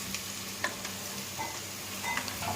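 Chopped onion, brinjal and potato sizzle in a hot pan for a khichdi, a steady soft frying hiss with a few light ticks and clinks of a spoon, close and fairly quiet, no talking.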